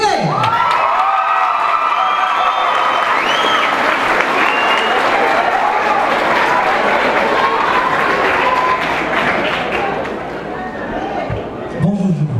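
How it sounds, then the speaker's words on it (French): A school audience at a Polynesian day celebration at a lycée applauds a young host as he is introduced. Loud, continuous clapping and cheering mixed with shouts and chatter last nearly the whole time, easing slightly near the end. "Sous vos applaudissements"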